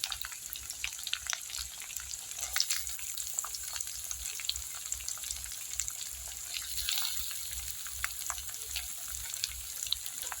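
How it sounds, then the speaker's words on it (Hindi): Onion frying in a pan with garlic and ginger already cooked in the oil, giving a steady close crackling sizzle with small pops throughout and no talking. "और इस प्याज को तब तक फ्राई करूंगी जब तक कि ये सॉफ्ट ना हो।"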